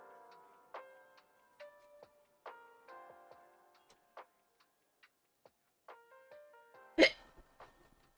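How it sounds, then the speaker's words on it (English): One sharp, loud hiccup bursts out near the end from a nearby person, over faint, sparse tinkling tones in the background. "Hiccups."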